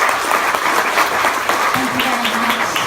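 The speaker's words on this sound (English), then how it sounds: "I'd like to give a round of applause to Nick for coming tonight." Dense audience round of applause at an evening speaker-series event, a continuous crowd of hands clapping throughout, with a voice briefly heard under the clapping near the end.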